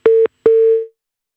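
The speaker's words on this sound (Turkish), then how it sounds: "Erk'le telefon bağlantısını kaybettik." Telephone tone heard after a call connection drops: two steady beeps at one pitch, the first short, the second longer and fading out, followed by silence.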